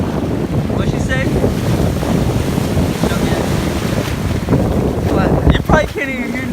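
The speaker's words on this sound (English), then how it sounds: "It's so windy out here." Strong wind buffets the microphone at a beach, a constant loud roar with ocean surf beneath it; people talk briefly over the gusts toward the end.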